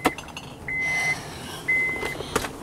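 A steady electronic beep sounds twice in long tones, with clicks and clatter around it, resembling a vehicle's reversing alarm.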